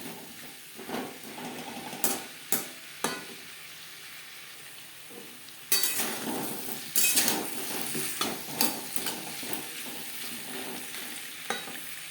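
Cauliflower stalks and vegetables stirred with spices in a frying pan: a soft background sizzle broken by intermittent scraping and clattering strokes of the spatula, growing busier and louder halfway through, with no talking.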